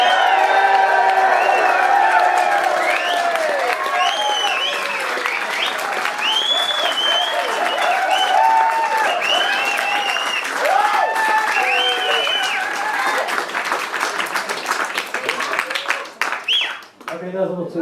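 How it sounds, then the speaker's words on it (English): A live audience at The Kings Head bursts into loud, sustained applause with cheers and whoops, the clapping dense and continuous before thinning out near the end. "Big round of applause!"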